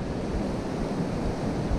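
Strong wind sweeps across a beach beside the surf, blowing sand along in a steady, close, rough roar that blends with breaking waves and never lets up.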